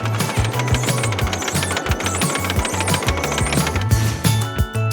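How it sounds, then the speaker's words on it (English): Loud, steady mechanical clatter with rapid rhythmic knocking and rattling from a conveyor belt running on a carrot harvester, continuous throughout. "Did you hear the sound the conveyor belt made on the harvester?"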